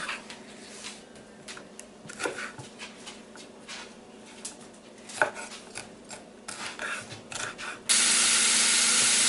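Vegetables for red beans and rice being chopped on a board, a run of sharp, irregular knife taps at moderate volume, with a dog nearby and a loud hissing sizzle starting near the end.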